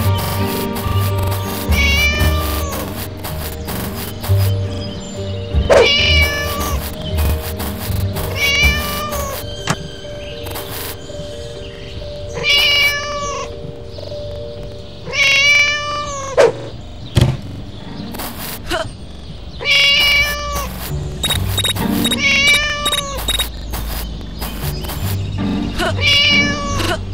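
A cat meows repeatedly throughout, with many drawn-out cries at irregular intervals, loud and close over a steady low background hum.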